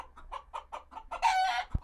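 A hen gives a series of short, evenly spaced clucks, then a louder, brighter squawk near the end. The sound is close and clear, with no voices.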